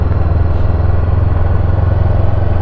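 A Honda CB500X motorcycle rides along the sand at Cassino beach in Rio Grande do Sul, its engine a steady, loud, close drone with low rumble and wind noise throughout, no talking.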